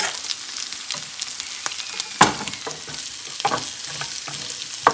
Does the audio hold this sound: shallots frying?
yes